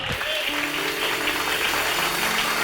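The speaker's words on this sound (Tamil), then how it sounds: "கைத்தட்டு." Congregation at a Sunday Tamil church service clapping hands, a steady dense patter of applause filling the room throughout with no talk over it.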